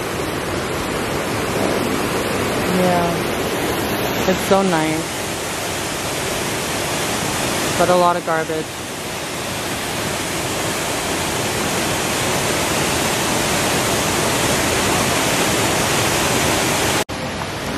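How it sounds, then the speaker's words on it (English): Fast river rapids after a thunderstorm rush in a steady, loud, broadband roar close by, with brief voices talking over the water a few times. "the rapids are going pretty fast"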